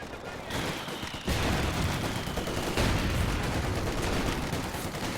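Off-map artillery in a Company of Heroes 2 match, heard as a dense rumble of explosions and gunfire, with a strong blast near the start and another partway through.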